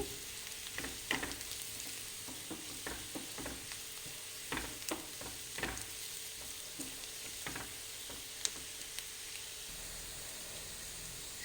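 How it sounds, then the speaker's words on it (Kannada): Turmeric and chilli powder fry in hot oil in a pan with a faint, steady sizzle. Scattered scrapes and taps of stirring break through at intervals. "ಈಗ ಅರಿಶಿನ ಚಿಲ್ಲಿ ಪೌಡ್ರ್ ಹಾಕ್ತಿದ್ದೀನಿ ಇದನ್ನು ಸೆಕೆಂಡ್ ಹೀಗೆ ಫ್ರೈ ಮಾಡಿ"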